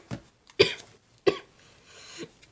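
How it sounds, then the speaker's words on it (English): A person coughs close to the microphone, two sharp separate bursts with a smaller breathy sound before them and a softer throat noise after. "I'm just coughing up everywhere"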